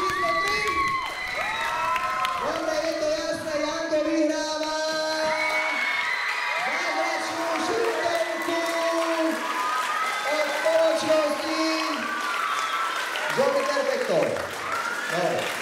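A children's audience at a dance show in Nové Mesto nad Váhom claps, cheers and whoops for a dancer, loud and continuous, with shouting voices and speech mixed in throughout.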